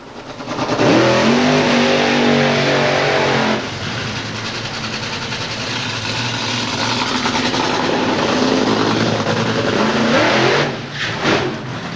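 Top Fuel dragsters racing at Santa Pod: a loud, thunderous engine roar that blasts in, holds heavy and ragged for several seconds, then fades and surges again near the end.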